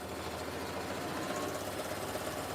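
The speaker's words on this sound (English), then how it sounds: "We are sewing the tube of the jelly roll rug right now." A sewing machine runs steadily while stitching the fabric tube of a jelly roll rug. It gives a close, even mechanical whir with a fast rhythmic chatter and no pauses.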